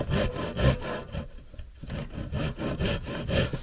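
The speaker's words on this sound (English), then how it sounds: "I'm going to use the traditional Western saw" A traditional Western hand saw cuts wood for a sawhorse in steady back-and-forth rasping strokes, loud and close, with a brief lull mid-cut before the rhythm resumes, with no voice.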